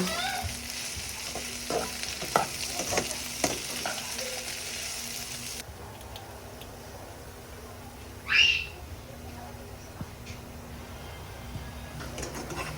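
Bitter gourd (palaya) fries and is stirred in a pan, producing a continuous sizzle with occasional scraping clatters; a sharp high squeak cuts in briefly near the end.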